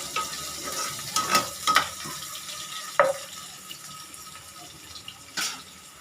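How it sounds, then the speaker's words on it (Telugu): Onion frying in oil for a stuffed brinjal curry, a quiet steady sizzle with several sharp spoon-and-pan stirring clatters on top. "ఉల్లిపాయ వేగనివ్వండి"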